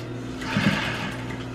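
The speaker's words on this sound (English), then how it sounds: "Back stitching." A sewing machine back stitches a folded hem on a triangle bikini top, a short steady motor whir with a low hum, close and even for about a second and a half.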